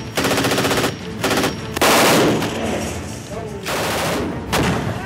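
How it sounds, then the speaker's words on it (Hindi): Machine guns fire during infantry training at a military school, in several loud, dense bursts of rapid shots with short gaps between them. "machine gun,"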